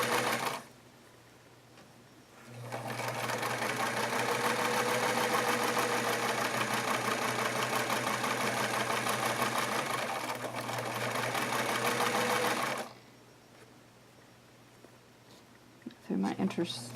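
A Singer 239 sewing machine stitching through a thick intersection of fabric layers, a steady, close, rapid mechanical whir that runs for about ten seconds before stopping, with a person talking before and after.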